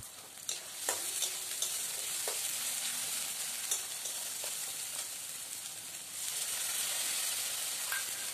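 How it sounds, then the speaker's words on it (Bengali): Ginger, onion and garlic paste frying with turmeric and chili powder in a pan, a steady close sizzle broken by scrapes and knocks of a spoon stirring, growing slightly louder toward the end, no voices. "চলুন খুব ভালো করে কষিয়ে নিতে হবে"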